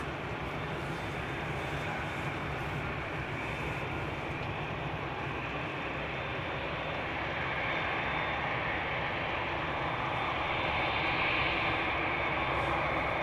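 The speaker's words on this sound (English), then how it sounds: "the Delta A330 on its way to the runway threshold, followed by a Dreamliner" A Delta Airbus A330 taxis toward the runway threshold at Amsterdam Schiphol's Polderbaan, a faint, distant, steady engine rumble and hiss that swells slightly in the latter half.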